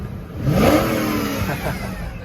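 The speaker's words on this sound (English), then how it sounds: "That V8 is such a rev-happy V8" A 2002 BMW 540 M Sport's V8 engine revs up sharply nearby, rising in pitch, then settles back into a rough, throaty idle with another small blip.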